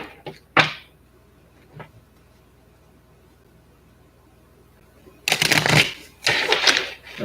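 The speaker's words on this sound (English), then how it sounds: "Let me shuffle the deck" A deck of tarot cards is shuffled in a few quick bursts, with sharp riffling flurries close by separated by stretches of quiet.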